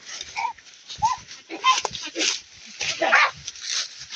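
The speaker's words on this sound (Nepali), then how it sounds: "कुकुरको झगडा परिसक्यो" Dogs fight in a snarling, yelping scuffle, with bursts of growls and cries coming in uneven waves while people shout over the commotion.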